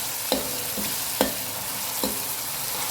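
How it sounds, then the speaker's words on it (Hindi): Masala spices fry in a pan for an aloo matar gajar sabzi, a soft steady sizzle broken by three evenly spaced scraping strokes of a spoon stirring, close and without speech. "अब यहाँ पर मसाले को मैंने बहुत अच्छे तरीके से भूनना है।"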